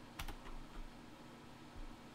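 Faint, sparse clicks of keys being pressed on a computer keyboard while using OpenBSD, a couple of quick taps early then scattered light strokes over a low background hum.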